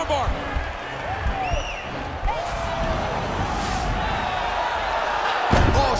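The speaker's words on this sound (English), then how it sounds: "lift your opponent up, and slam her to the ground" In a UFC Fight Night women's MMA bout, a fighter lifts her opponent and slams her down, making one heavy thud near the end, under a commentator's talk and arena crowd noise.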